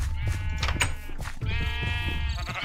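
Sheep in the video game Minecraft bleat in two drawn-out, wavering calls, loud and close, one after another with no talking.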